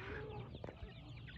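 Chickens on a farm in California clucking as they are fed grain, a close, busy cluster of short fowl calls over a steady hubbub, with a couple of sharper bursts midway.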